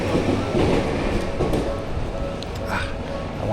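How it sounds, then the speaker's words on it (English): A train rumbles past close by in Jiyugaoka, Tokyo, on a gray rainy-season day, a continuous clattering roar of wheels and carriages filling the whole few seconds, with street noise around it. "I wanted to catch that train"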